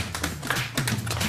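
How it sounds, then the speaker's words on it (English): Feet tap dancing in a children's story programme, with a quick, uneven run of crisp, close taps and shuffles, loud and alone. "What was that noise you were making with your feet? This, Mr. Pink, is called tap dancing."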